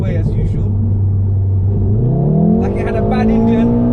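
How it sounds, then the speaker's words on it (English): 2015 Volkswagen Golf R MK7 engine droning while driving, its low exhaust note rising as it accelerates, heard close up from inside under people talking. "And I see your car's just farting away as usual,"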